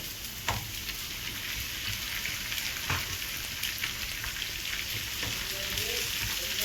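Garlic frying in a pan for dhal pitta gives a steady, close sizzle with a few sharp clicks and stirring taps throughout, without any talking.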